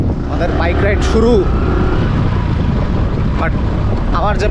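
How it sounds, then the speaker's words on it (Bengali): A motorcycle ride near Kuakata beach in Bangladesh produces a heavy, constant roar of wind buffeting the microphone and engine rumble, with people talking over it. "আমাদের বাইক রাইড শুরু"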